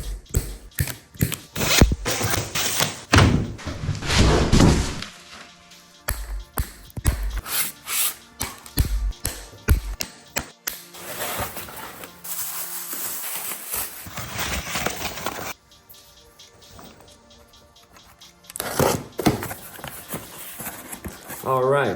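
A HAOQI Rhino electric bike unboxed, with loud rustling, tearing and clattering of cardboard and packing, scrapes and knocks in busy bursts close by, and a voice talking over parts of it.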